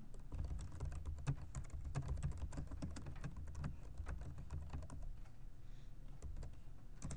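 Code being typed on a computer keyboard: steady, rapid key clicks, soft and close, continuing without pause against a faint background hum.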